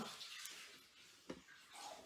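Water is poured into a Magimix Cook Expert bowl to rinse it, a faint, steady splashing and running for about two seconds.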